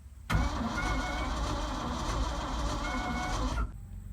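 A Ford F-600 truck engine cranks briefly and catches, then runs loud and steady at close range, a dense rumbling idle that holds for several seconds before cutting off abruptly.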